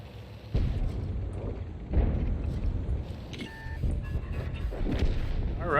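Heavy artillery booms and cannon blasts from World of Tanks combat, a few sharp impacts over a rumbling battlefield bed with engine noise, moderately loud with no talk.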